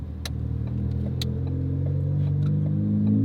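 A Ford Focus ST with a burble exhaust tune rumbles steadily nearby, a few sharp crackling pops flicking over the low exhaust drone.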